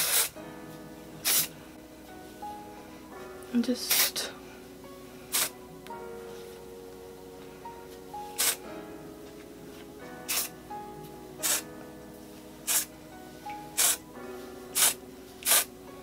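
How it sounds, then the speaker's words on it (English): Short, sharp hisses of an Aussie dry texturizing aerosol hair spray, about a dozen quick bursts spaced a second or so apart, close up, with faint talk in the background. "I'm gonna go back in with that dry texturizing spray"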